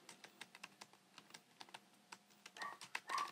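Quiet, close taps on a 16-inch MacBook Pro keyboard come in an irregular run of quick keystrokes, growing a little louder toward the end, with no voices.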